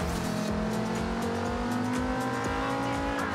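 An old Audi Sport quattro Group B race car in Forza Horizon 2, its engine droning steadily at high revs with gear changes and throttle blips, continuous and close, with no talk.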